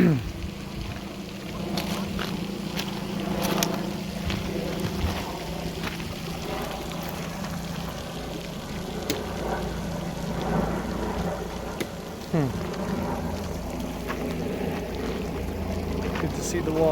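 Water rushes like a flash flood across the ground at a big cat ranch after a fire, a steady, close roar of flowing, splashing water with scattered thumps.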